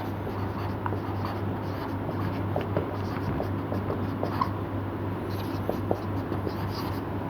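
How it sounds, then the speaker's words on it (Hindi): Steady scratching and tapping of marker or chalk writing on a board, close and continuous over a low room hum, with no talk. "इधर मैं लिख लूँगा कम्युनिकेशन स्किल"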